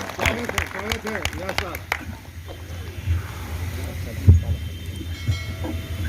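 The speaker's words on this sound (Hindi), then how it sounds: "मेरे अनुज जरा जोरदार तालियों के साथ स्वागत करें सुनील व्यास।" An audience applauds to welcome Sunil Vyas on stage: a steady wash of clapping rises after someone speaks briefly, then carries on as a continuous, moderately loud roar.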